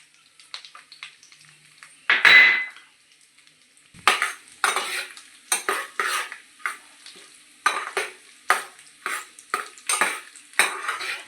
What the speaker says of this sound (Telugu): నెయ్యిలో కొబ్బరి వేసుకోవాలి ఫస్ట్.